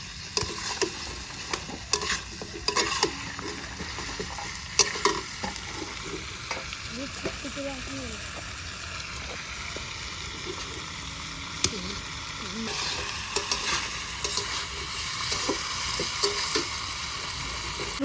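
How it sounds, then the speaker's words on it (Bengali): Whole garlic and chui jhal sizzle in hot oil for a pork curry, a continuous frying crackle broken by repeated scraping stirs and clinks of a utensil against the pan. "এখন আমি গোটা রসুন আর চুই ঝাল দিয়ে দেবো।"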